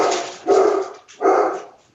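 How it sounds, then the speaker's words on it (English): A dog barks twice in loud, close, separate bursts during a board meeting. "over the barking dog"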